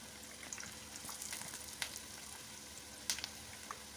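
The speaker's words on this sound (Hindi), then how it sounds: "अब इनको इस मिक्सचर में डालकर हमने फ्राई करना है" Tree pakoras in batter frying in oil over a medium-low flame, giving a quiet, steady sizzle with scattered soft crackles and pops, heard alone.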